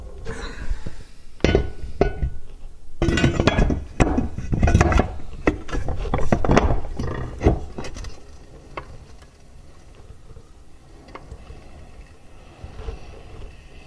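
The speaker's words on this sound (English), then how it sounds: "Let's drop the flywheel back in there." A metal flywheel is lowered into a gear case, giving a series of hard clunks, knocks and clinks in irregular bursts, then quieter scrapes and taps as it settles.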